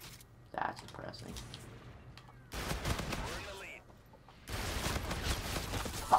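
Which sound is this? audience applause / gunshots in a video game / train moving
gunshots in a video game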